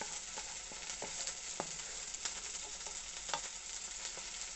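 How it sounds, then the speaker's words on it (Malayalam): Small onions sauté in oil for a Kottayam-style Kerala fish curry, giving a faint, steady sizzle broken by light scrapes and taps of a stirring utensil, with no voices. "1/2 കപ്പ് ചെറിയ ഉള്ളി കട്ട് ചെയ്തത് ഇട്ട് കൊടുത്തതിന് ശേഷം 2 മിനിറ്റോളം വഴറ്റി കൊടുക്കാം."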